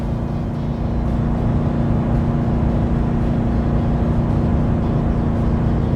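A pickup truck's engine holds a steady loud drone at around 3,500 RPM while towing, a continuous even hum with cabin road noise and no talking.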